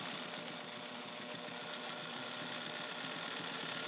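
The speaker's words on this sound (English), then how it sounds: "And then you're going to see the machine do zigzag." A Toyota Morse Fotomatic IV zigzag sewing machine stitches a zigzag pattern at medium width and a long stitch length, giving a steady, continuous mechanical whir with a fast rhythmic chatter. It runs without a break and no one talks over it.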